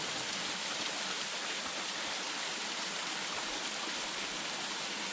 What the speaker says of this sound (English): This waterfall here is right off Route 715, just east of the Glady Visitor Center.